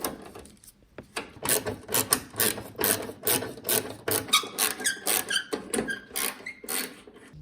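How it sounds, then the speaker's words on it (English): A 1/4 inch socket ratchet backs out small grill bolts on a 1994-1997 Mazda B-Series truck, giving rapid clicking ratchet bursts in a steady rhythm with squeaky metallic turns, close and clear, no talking. "So using a 1/4 inch socket to take out all these little bolts."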